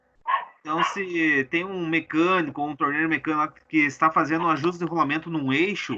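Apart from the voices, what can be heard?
dog barking through someone's open microphone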